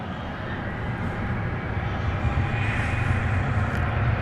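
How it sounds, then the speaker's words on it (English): An MD-11 jet airliner is pushed back from its gate at an airport at night, producing a steady engine roar that swells gradually and stays moderately distant, with no voices. "MD-11 backing out."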